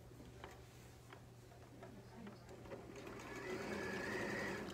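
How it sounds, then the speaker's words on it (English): A sewing machine runs steadily, stitching a half-inch seam around a pillowcase. The soft, even hum and tick are fairly quiet and grow slightly louder toward the end. "So I'm going to sew this, and now I'm going to make a half inch seam"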